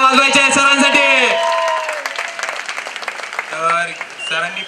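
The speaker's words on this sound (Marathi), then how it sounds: "सगळ्यांनी जोरदार टाळ्या वाजवायच्या आहे सरांसाठी" Audience applause for a teacher at a school event, a burst of clapping from a crowd partly under a loud voice, fading into scattered claps.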